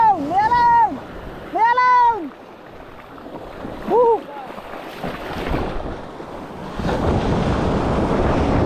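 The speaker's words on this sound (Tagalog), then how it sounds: "Tay, may alon!" Ocean waves and wind roar around the microphone at sea, with surf rushing in louder near the end; shouting voices ring out over the water from a fishing boat hauling a net.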